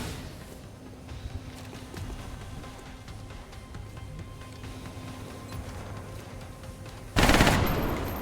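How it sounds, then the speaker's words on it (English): Gunfire in the video game XCOM Long War: a steady run of rapid shots and clatter at moderate level, ending in a sudden louder burst near the close. "I'm trying to shoot it with guns though."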